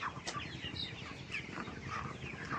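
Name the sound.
chickens clucking on sand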